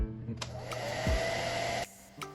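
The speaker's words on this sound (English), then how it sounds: "you're gonna heat set in between each little layer so that way it dries properly" A heat gun or hair dryer heat-sets paint on a stenciled shoe, giving a steady close blowing whir that holds for nearly two seconds before cutting off abruptly, with a brief restart near the end.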